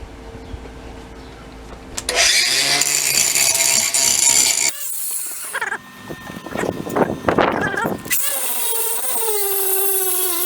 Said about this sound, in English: I'll get the old grinder on there and just grind off those high bits